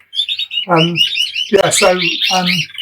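A canary sings close by in bright, quick chirps and warbling phrases, broken by short pauses.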